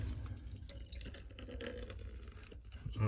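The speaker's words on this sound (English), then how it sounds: "you can use your drain hose here, and we'll just put this down on the ground, and gravity will run it out" Water drains from a GE washing machine through a drain hose laid on the ground, a steady close trickle and splash of running liquid with faint drips, no talking.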